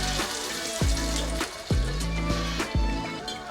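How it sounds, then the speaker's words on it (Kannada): Water splashes into a pan of sizzling egg pepper fry with oil separating, giving sharp splashy bursts over a steady frying hiss, with no talk. "ಇದಕ್ಕೆ ಒಂದು ಸ್ವಲ್ಪ ನೀರು ಹಾಕ್ಕೊಳ್ಳೋಣ"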